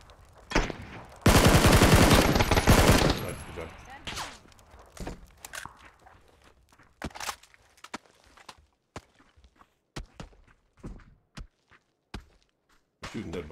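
PUBG gunfire opens with a dense, loud AUG spray lasting about two seconds, then gives way to scattered single shots and short bursts, mixed with footsteps and players talking over the action.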